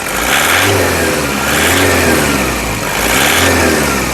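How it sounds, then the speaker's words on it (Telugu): A 2015 Toyota Innova 2.5 GX engine revs up and down repeatedly in loud, close waves over a steady rumbling idle. "ఇక్బార్ గాడీ రేస్ దేదోనా"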